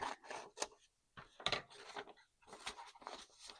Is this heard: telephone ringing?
no